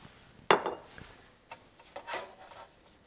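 Avocado oil being rubbed by hand into a raw tri tip steak, a close, soft wet rubbing with a sharp smack at the start and a few brief scuffs after.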